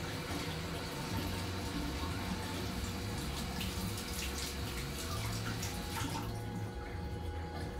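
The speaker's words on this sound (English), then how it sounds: "I'm gonna wash my hands though," Hands are washed under a running tap, a steady close rush of water with some splashing throughout and no talking.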